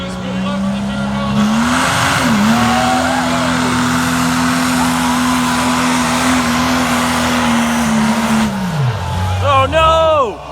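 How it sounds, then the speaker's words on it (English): Turbocharged pulling truck at a truck and tractor pull, engine holding a loud steady drone as it accelerates down the track for about seven seconds before dropping off, with an announcer talking over it and a crowd behind. "Spool up the turbo."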